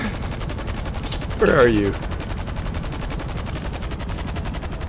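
Rapid automatic gunfire in GTA V rattles steadily throughout as a dense, continuous stream of shots, with a brief burst of speech partway through.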